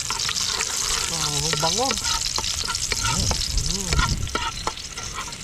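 Garlic sautéing in a pan until golden brown, a loud steady sizzle and frying hiss with stirring scrapes throughout, while people talk over it.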